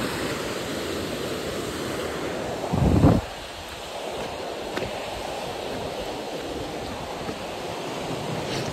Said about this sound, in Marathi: हा बघा, हा अलकनंदा नदीचा प्रवाह.